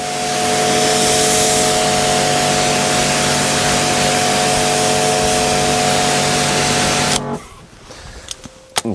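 Water sprayed onto car paint to wet both sides of a panel before forced-air drying: a loud, steady hiss with a tonal hum that runs for about seven seconds, then cuts off, leaving quieter clatter.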